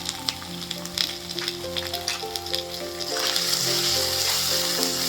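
Spices sizzle in hot oil as they fry for a raw banana kofta curry, with a steady crackling hiss that swells louder partway through, close up, with tonal background sound running underneath.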